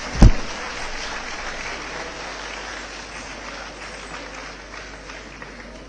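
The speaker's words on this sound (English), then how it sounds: "please welcome Varshini with a big round of applause." Big-crowd applause welcomes a performer at an annual event in a convention hall. A sharp thump opens it, then a steady, fairly loud roar of clapping carries on without speech.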